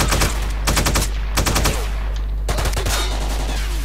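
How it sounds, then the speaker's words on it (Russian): Video game gunfire in S.T.A.L.K.E.R.: rapid automatic bursts in several clusters, loud and close, separated by short gaps over a steady low hum. "Это кто так шмаляется?"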